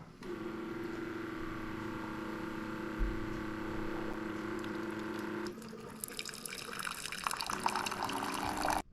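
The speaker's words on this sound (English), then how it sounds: "So we're going to run several cycles of 10-ounce water through the keurig." A Keurig K-Latte coffee brewer runs a water-only flush cycle, a steady close mechanical hum with trickling water that shifts partway through into brighter pouring and hissing as the brew continues.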